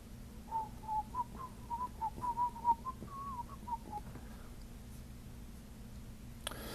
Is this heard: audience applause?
no